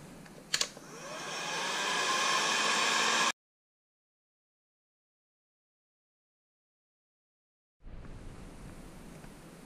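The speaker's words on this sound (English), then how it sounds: "Now I got a heat gun." A heat gun blows a steady, loud hiss of hot air while shrinking heat shrink tubing on a security camera wiring job in a school bus conversion, cutting off abruptly and restarting after a few seconds of silence.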